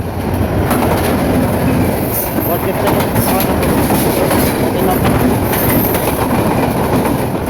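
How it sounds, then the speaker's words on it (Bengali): A Dhaka-bound passenger train, the Mohanagar Express, rolls through a station close by, a loud continuous rumble with rhythmic wheel clatter and occasional faint squeals. "ঢাকা অভিমুখী রেল স্টেশন ক্রস করে যাচ্ছে ট্রেনটি"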